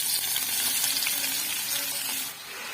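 Cabbage fries in melted butter and oil, giving a steady, close sizzle that crackles evenly throughout and eases slightly near the end.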